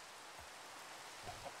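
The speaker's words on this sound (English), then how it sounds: "Especially now that it started raining." Rain falling in the Minecraft video game as a steady, soft hiss of noise at low level, with a couple of faint splashes and no voices.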